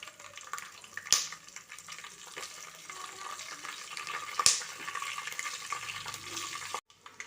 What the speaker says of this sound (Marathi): या तेलामध्ये आता आपण ही हिरवी मिरची आहे ती तळून घेणार आहोत